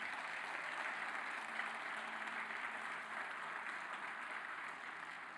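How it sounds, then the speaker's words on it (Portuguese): A church congregation applauds together in a steady, continuous clatter of clapping that fills the room and holds evenly throughout. "Você pode aplaudir a Deus por isso?"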